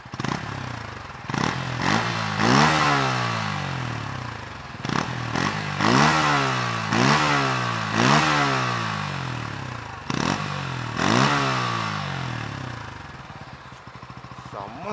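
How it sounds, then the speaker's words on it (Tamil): A 2023 Bajaj Pulsar N160 motorcycle engine is revved repeatedly, each blip sweeping sharply up in pitch and falling back to a throbbing idle, loud and close, about eight revs in a row. "இப்போ ரவ் பண்ணலாம்."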